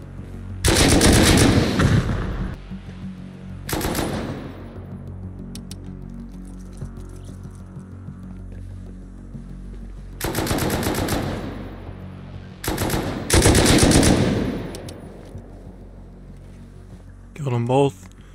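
Bursts of automatic gunfire aimed at a turret in the console version of the game Rust come in several long, loud volleys separated by pauses, with a brief shorter burst near the end.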